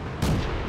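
A tank cannon in a video game fires a single short, heavy boom as the round punches through enemy armor, loud and close with a brief rumbling tail.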